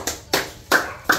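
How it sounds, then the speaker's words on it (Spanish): On a television show, as a woman walks a catwalk, a few separate hand claps ring out, four crisp sharp claps spaced roughly evenly and close by, with nothing else between them. "Un aplauso, le puede."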